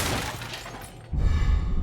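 An object is smashed in the video game Resident Evil 4 (2023), a loud crashing burst with a breaking, shattering quality that cuts in abruptly and lingers about a second, heard alone without talk.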